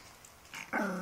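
A small dog gives a short, close growl that rises into a brief bark-like yelp, heard alone at low level indoors.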